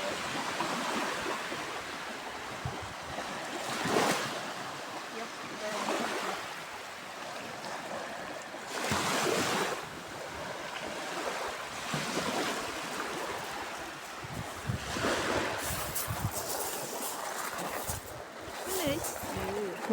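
Sea waves break on the shore below a high seaside walkway, heard from above as a steady rushing wash that swells into louder surges about every five seconds.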